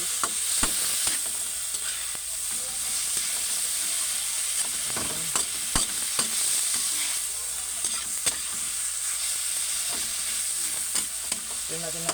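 Squid adobo with tomatoes sizzles steadily in a pan while a utensil stirs and scrapes through it, the frying hiss continuous and close with intermittent sharp clinks.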